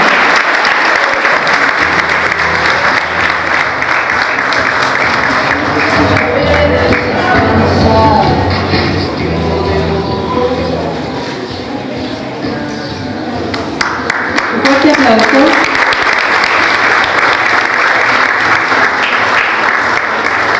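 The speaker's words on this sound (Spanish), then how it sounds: "La recibimos con un fuerte aplauso" At a school awards ceremony, the audience gives strong applause to a fifth-grade student honoured for academic achievement. The clapping is loud and continuous for about twenty seconds, with voices faintly under it.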